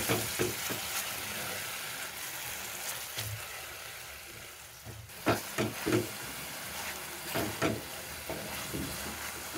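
Chicken pepper fry masala with mint, coriander and curd sizzling in a pan while being stirred, a strong steady hiss broken by several loud clattering scrapes of the spoon in the second half, no voices.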